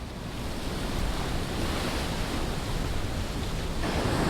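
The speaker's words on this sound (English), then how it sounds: "The ebb and flow of the ocean" Ocean waves at Cape Hatteras, a steady, loud, broadband rush of surf that continues without a break, close by, with wind noise mixed in and no voices.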